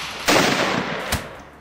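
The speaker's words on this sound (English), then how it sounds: "I don't know if anyone heard the gunshot" A single gunshot rings out, a sharp loud blast followed by a fading echo, with a second quieter crack a moment later; close and alone, no talk.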